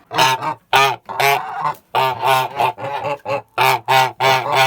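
Young Kholmogory geese honk loudly and close by in a quick run of nasal, harmonic calls, short bursts separated by brief pauses.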